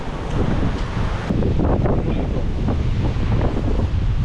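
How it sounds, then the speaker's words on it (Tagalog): Sea waves wash and churn along the coast of Romblon island in the Philippines, a continuous loud surf roar heavily buffeted by wind gusting across the microphone, with no talking. "marami ng alon, no?"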